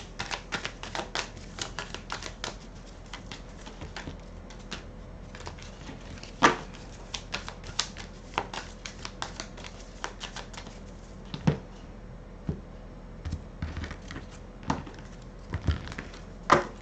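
Tarot cards being reshuffled by hand, a dense run of quick papery clicks and snaps of varying loudness, close and continuous with no talking.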